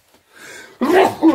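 A single close, loud sneeze with a sharp burst after a short breathy intake, heard indoors during work fitting a remote water tank in a sauna.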